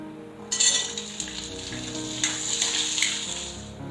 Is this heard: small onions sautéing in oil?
yes